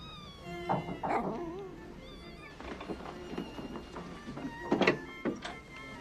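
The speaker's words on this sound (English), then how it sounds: "have you given any thought to taking the cats out of your bedroom?" Cats meow indoors in a bedroom, several short drawn-out calls rising and falling at uneven intervals, fairly close, mixed with faint household knocks and a door-like thunk.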